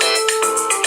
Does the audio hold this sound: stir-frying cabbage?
no